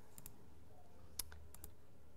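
Computer mouse clicking at a desk during GIS map work, a handful of faint, sharp clicks scattered irregularly over a quiet background hum.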